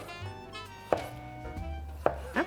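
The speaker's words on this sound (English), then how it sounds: "some leftover cherry tomatoes, and I'm gonna cut those up because those will be great on the soup" Knife chopping leftover cherry tomatoes on a cutting board: a few sharp, separate thunks at an uneven pace, close by, over a low steady kitchen hum.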